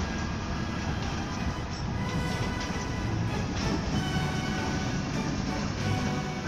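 A freight train passes through Westbury with a steady, loud rolling roar of wheels and wagons that holds unbroken throughout, close by and with no voices.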